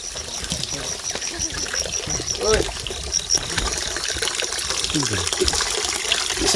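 Water trickles softly at a rural water source near a farmer's clearing, a gentle, continuous dribble heard close by.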